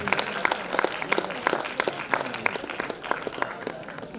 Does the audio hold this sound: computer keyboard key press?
no